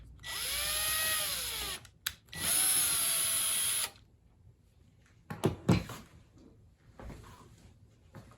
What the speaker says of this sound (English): I have my ratchet on setting number 1 for this. I do not want to strip out the screw